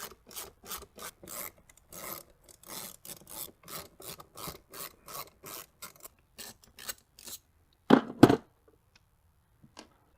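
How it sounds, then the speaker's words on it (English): Rhythmic rasping turns of a T20 driver backing bolts out of a plate on a 2021 Can-Am Spyder F3T, many short repeated strokes, close and steady, followed by a louder clatter near the end. "Using a T20, take out the 4 bolts back here."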